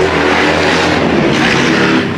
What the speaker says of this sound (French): une moto qui passe, on va l'entendre, c'est bien